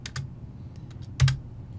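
A few quick keystrokes on a computer keyboard while entering a measurement into design software for a cardboard organizer, with short close clicks and one slightly louder tap, alone without talk.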